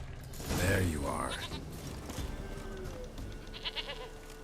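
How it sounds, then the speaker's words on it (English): A goat in the fantasy role-playing game The Witcher 3 lets out a short wavering bleat amid faint creaks and soft ambience, followed by quieter rustling. "Here, goat."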